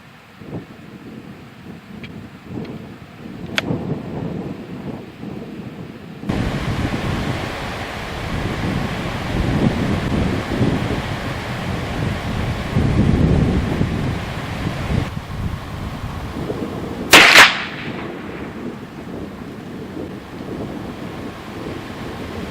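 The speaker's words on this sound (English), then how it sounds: "Now shooting 50 yards with the CVA single shot 44 Magnum Scout" A CVA single-shot .44 Magnum Scout break-barrel rifle with a Drake barrel is fired at 50 yards outdoors; one sharp, loud report cracks out late, over steady wind rumble, with a few fainter clicks earlier.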